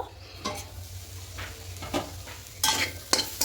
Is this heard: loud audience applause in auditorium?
no